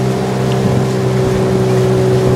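A motorboat engine drones steadily and loudly during a ride on the Ukhta river, a constant close hum with water wash underneath and no speech.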